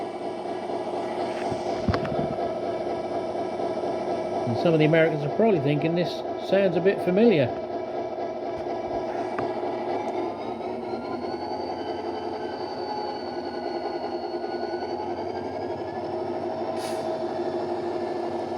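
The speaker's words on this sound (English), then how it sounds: "You hear the air being released. It's going through the brake procedure before it will pull off" A Dapol Class 59 model locomotive with a sound decoder runs a steady engine idle, with a brief burst of air release partway through its brake procedure, under someone talking.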